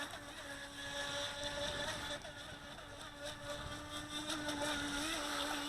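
A Feilun FT009 high speed RC boat running on water, its electric motor giving a steady high whine that rises and falls slightly as it turns, heard at moderate distance with no one talking.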